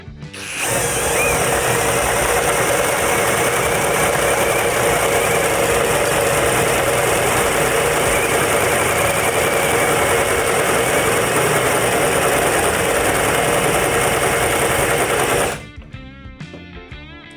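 A Procraft CD20B cordless drill, running in first speed on turbo mode, boring with an 8 mm bit, gives a loud, steady, high-pitched whine for about fifteen seconds before cutting off abruptly.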